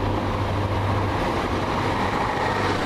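A TransPennine passenger train bound for Middlesbrough from Manchester Airport rumbles past at Cross Gates, a close, dense, continuous roar of wheels and engine filling the whole short stretch.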